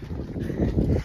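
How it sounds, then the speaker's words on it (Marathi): Strong wind at the Mangi Tungi hills roars and buffets the microphone in a steady low rumble, close and loud, with no speech. "इथं पूर्ण वारा खूप चालतंय"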